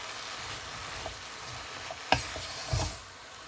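Onions and bacon sauté in a pan with a soft continuous sizzle, punctuated by a couple of brief stirring scrapes near the end.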